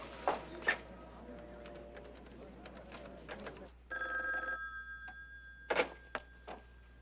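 An old-fashioned telephone rings in short bursts in an indoor scene, with quiet pauses between the rings and faint background noise.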